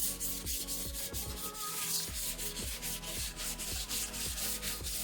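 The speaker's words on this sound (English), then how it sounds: "You need to give it a quick rub. So what we do, guys, the lightest of light is wet and dry, nice and gentle." Wet and dry sandpaper rubs back and forth over primer on a quad bike, a close, rhythmic rasping stroke repeating about twice a second without pause, steady and fairly loud with no voices.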